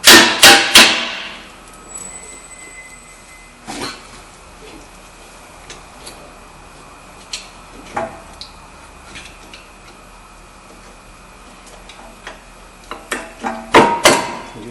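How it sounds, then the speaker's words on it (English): Hammer taps knocking the pad loose from a 2014 Audi A4 front brake caliper: a burst of sharp metallic strikes at the start, scattered single knocks through the middle, then another quick cluster of taps at the end, close and with no talk. "you can just take a hammer and tap it, and the brake pad usually just"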